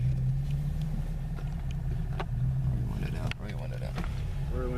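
A car drifting and spinning out on a snowy road, its engine roaring steadily at close range with some revving surges, while people talk over it.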